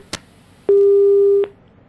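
Telephone busy tone after a call drops during a Hindi TV news debate: a single steady electronic tone lasting under a second, bracketed by clicks, loud and alone.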